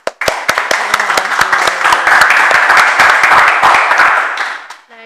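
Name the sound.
audience applause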